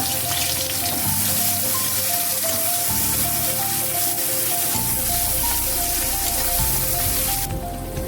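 Whole cumin seeds crackle and sizzle in hot oil in a pan that has just fried fish, a steady dense frying hiss lasting throughout at close range.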